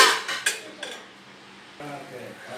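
A cooking pot is pulled out in a home kitchen ahead of making drumstick curry, giving several sharp metallic clanks and clinks at the start, then quieter rattling and a final bump, with a voice speaking lightly.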